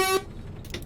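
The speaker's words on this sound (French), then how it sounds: "Le klaxon, il me fait délirer le klaxon." Bus horn on a new Irisbus coach in the OMSI 2 driving simulator, a single short loud honk at the start that cuts off, followed by quiet engine rumble.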